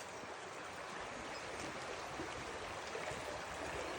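The Połcznica river flowing beside a path near a small footbridge, a steady, moderately close rush of water with no voices over it.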